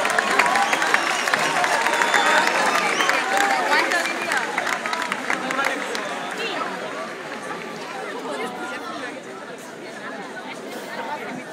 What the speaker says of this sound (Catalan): Un aplaudiment aquí, sisplau